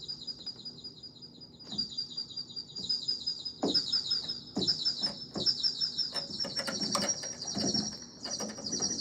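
Repeated high bird chirps and tweets in quick succession over a faint background hiss, with a few louder calls standing out.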